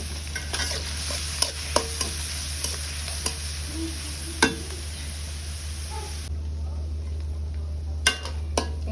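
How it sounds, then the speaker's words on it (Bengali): Dried loitta fish frying in hot oil in a pan, with a steady low sizzle and intermittent stirring clicks and scrapes of a utensil, no talking. "তেলের মধ্যে হচ্ছে শুটকিগুলোকে হচ্ছে এখন আমি ভেজে নেব।"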